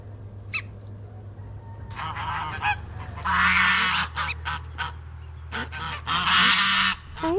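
A newly hatched gosling calls, repeated honking chirps that come close together and loud, with a steady low hum underneath.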